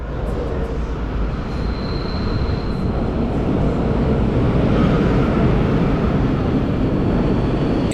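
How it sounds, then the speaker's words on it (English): A PKP Intercity Taurus electric locomotive hauling a EuroCity train into a station, arriving late; a loud, steady rumble of wheels and traction noise with a faint high whine, building slightly as it rolls past close by. "A PKP Intercity Taurus locomotive is in charge of our train today and pulls in about an hour late."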